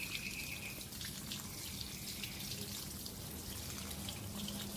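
Water from a tap runs steadily over a K&N air filter from a Suzuki FU 150 Fi Raider motorcycle as it is rinsed clean, a continuous close splashing hiss with no voices.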